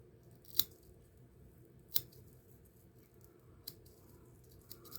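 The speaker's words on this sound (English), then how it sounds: "I know I'm going to have to trim this down." Scissors trimming spun deer belly hair: two sharp snips close by, then a couple of fainter cuts, over a quiet low background hum.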